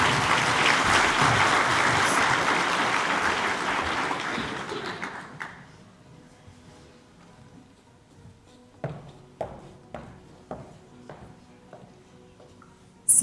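A forum audience bursts into loud, dense applause that fades after about five seconds, leaving a few scattered, isolated claps ringing out in a quiet hall.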